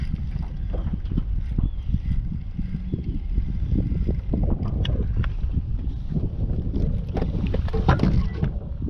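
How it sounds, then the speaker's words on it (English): Wind gusts across open water during crappie fishing from a boat, a steady, loud rumbling buffet against the microphone with occasional knocks and splashy rustles throughout. "This wind's starting to get up."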